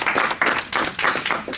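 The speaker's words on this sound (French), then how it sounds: "Sur votre applaudissement." Audience applause at a startup event welcoming two guests, an energetic burst of clapping from a modest crowd with noticeable individual claps pulsing unevenly through the wash.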